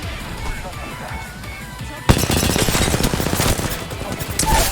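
Video game gunfire, with quieter scattered shots followed by a sudden loud burst of rapid repeated firing that continues to the end, while someone talks over it.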